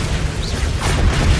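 A Bombarda blasting spell detonating in the game Hogwarts Legacy, a low, rumbling boom that swells and holds for about a second, heavy and close with a dull roar.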